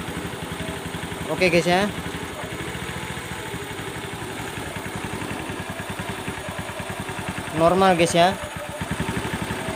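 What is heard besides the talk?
Honda Beat Street ESP motorcycle engine starting and idling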